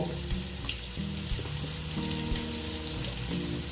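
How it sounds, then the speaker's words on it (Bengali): Flattened rice (chira) fries in hot oil for a snack, giving a steady close sizzle with occasional bubbling and light stirring clinks, with no talking. "প্রায় ভাজা হয়ে গেছে"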